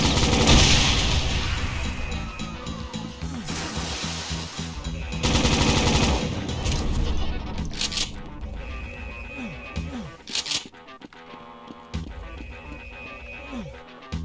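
Dense, rapid gunfire from a first-person shooter, Brutal Doom, starting with a pistol, rattles loudly in bursts like machine-gun fire and fusillades, with brief lulls and trailing in-game effects between volleys.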